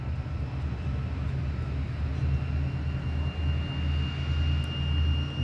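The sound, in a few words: tow boat diesel engine ramping up power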